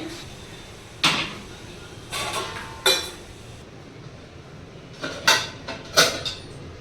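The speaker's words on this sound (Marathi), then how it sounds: "आता मी कुकर लावून घेते पहिलो आधी डाळ आणि वाटाणे शिजवून घेते" Pots and a pressure cooker lid clatter and clank in a kitchen, several separate metallic knocks spread out, moderately close, with quiet between them and no talk.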